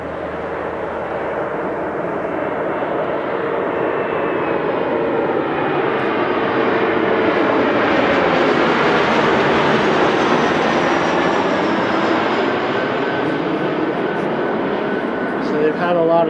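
An Air Canada airliner inbound from Montreal lands at Philadelphia airport in January, a loud broadband engine roar that swells toward the middle and holds steady throughout, with people talking underneath.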